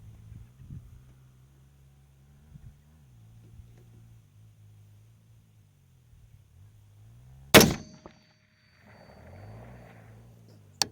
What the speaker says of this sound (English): I'll hold 10 on this first shot and see if we hear the steel ring.